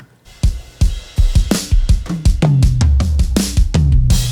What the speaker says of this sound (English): This drum smash channel sounds like this.